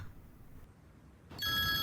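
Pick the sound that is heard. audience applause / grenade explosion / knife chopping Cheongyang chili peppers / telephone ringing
telephone ringing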